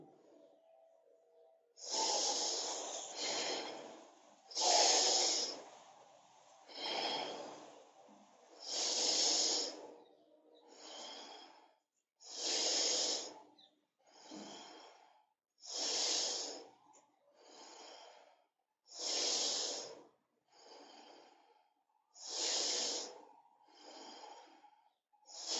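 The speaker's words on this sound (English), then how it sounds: "First normal breathing, forcefully inhalation, forcefully exhalation." Forceful yoga breathing, with a rhythmic series of hissing breaths through the nose, each rapid inhale and exhale loud and close, repeating steadily with brief quiet gaps, no talking.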